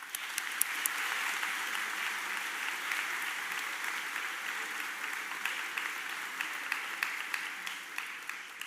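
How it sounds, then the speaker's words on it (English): Audience applause at a high school graduation in Barnegat, a sustained wash of many hands clapping from a large crowd, with steady intensity and a few sharper claps standing out. "everyone deserves a wholesome round of applause"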